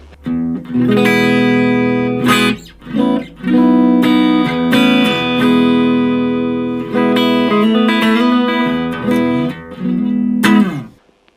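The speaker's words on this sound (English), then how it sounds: "So this is our clean warm." A Blackstar ID Core amplifier plays a clean, warm electric guitar tone, run dry with no effects. Sustained chords and single notes ring out loud and close, with short gaps between phrases.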